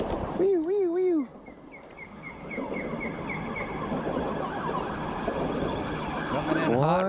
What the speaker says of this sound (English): red lights and sirens